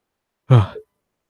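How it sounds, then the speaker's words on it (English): A single drawn-out yawn, voiced and breathy, rising then trailing off with a short tail, heard alone in silence. "That was a yawn right there."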